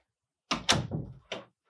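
A door in a grandparents' basement opens with a wooden thunk, a short creaking rattle and a second knock, heard close against an otherwise silent room.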